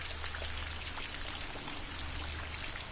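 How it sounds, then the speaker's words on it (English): A cold shower runs in the VOTV observatory game, a constant hissing spray of water pouring down, even and unbroken throughout with a low steady hum beneath it. "you can stand under a cold shower to wake yourself up"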